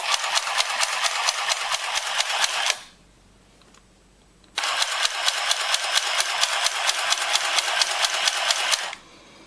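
A Singer Handy Stitch handheld sewing machine stitches fabric in two bursts of rapid, even mechanical clicking, close and loud, with a brief quiet pause between them.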